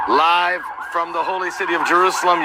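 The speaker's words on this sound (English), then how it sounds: "You can hear the sirens in the background." Emergency vehicle sirens wail loudly in the city of Jerusalem, their rising and falling tones filling the clip while someone talks over them.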